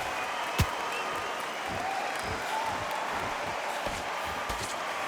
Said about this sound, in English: you can hear everybody in the crowd